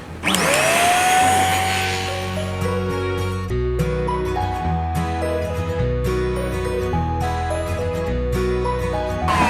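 Airbot CM900 dust mite vacuum cleaner running steadily on a mattress, a loud close motor hum with a high whine at start-up and shifting tones as the head moves across the fabric.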